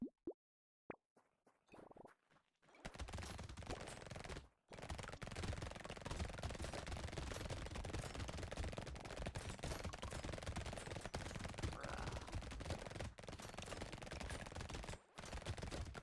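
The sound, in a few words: SMG gunfire in the video game Brotato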